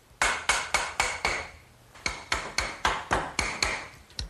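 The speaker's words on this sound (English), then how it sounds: "I just slip it through the other eye bolt and give it a little tap to drive it home." A hammer taps a bolt through an eye bolt on a wooden garden swing: a quick series of five sharp metallic blows, a short pause, then about eight more evenly spaced, close and ringing.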